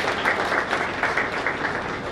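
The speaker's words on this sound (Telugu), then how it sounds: "అందరం కూడా చప్పట్లతోని కృతజ్ఞతలు" A crowd at a local public gathering claps together in thanks to the state chief minister, loud, close, steady applause with no pauses.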